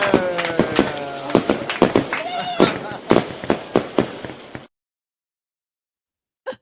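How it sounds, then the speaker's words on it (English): A firework sound effect played during a stream gives a rapid, irregular string of crackling pops and bangs for several seconds, then silence broken by one faint tap. "We'll do fireworks."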